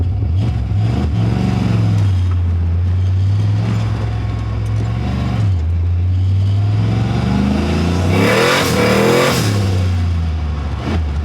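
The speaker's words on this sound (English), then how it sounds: "It's dropping back down to idle pretty good." A tuned Ford Mustang Foxbody V8 revs loudly up close, then its engine note falls and settles back to a steady idle, with a second rev and drop toward the end.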